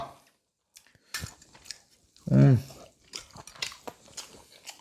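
Someone eats home-cooked chicken, with a loud close bite and chewing burst midway, surrounded by soft clinks and light mouth sounds, while a person talks around it.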